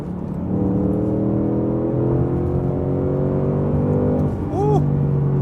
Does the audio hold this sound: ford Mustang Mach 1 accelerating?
yes